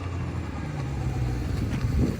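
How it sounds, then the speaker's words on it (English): A fully rebuilt Honda CB750 Four K6 motorcycle engine runs steadily close by, a continuous low rumble with a slight swell near the end. "It sounds like a Honda"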